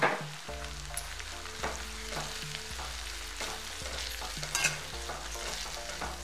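Red chili powder and turmeric masala stir-fried in oil in a pan for a hadga flower dish, with a soft continuous sizzle under a rhythmic series of spoon strokes, close and faint, without voices.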